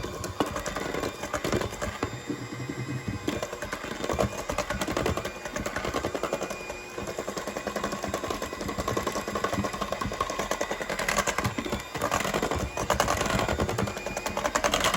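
An electric mixer churns cake batter with flour in a continuous, even whir that holds steady throughout, with a fast rattling texture and no talk over it.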